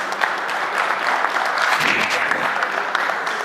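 An audience at a conference session applauds with a steady, fairly loud wash of clapping that holds for several seconds, with no voices on top.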